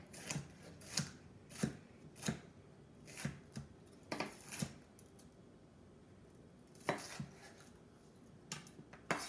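Knife slicing an eggplant in half on a cutting board, heard as a series of crisp, close cuts and taps in an irregular rhythm, some grouped in quick pairs, with quiet pauses between.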